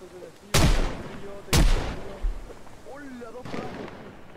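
Two loud, sharp gunshot blasts about a second apart in the video game Project Zomboid, followed by a fainter third shot, with a brief voice in between.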